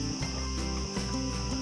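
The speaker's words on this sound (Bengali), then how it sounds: "এই যে ঝিঝি পোকার শব্দটা, সেটার কথাই বলতেছিলাম। Crickets and সিকাদেস" Crickets and cicadas chirp in a continuous high-pitched drone inside the Penang Hill rainforest, a steady insect chorus with a low background rumble and no voices.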